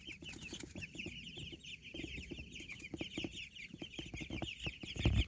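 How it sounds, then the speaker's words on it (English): Young meat-bird chicks on a homestead cluck and peep together in a steady, chattering chorus, close by and moderately loud, with scratching and rustling underneath and no talk. "Just gonna show you all our chicks here."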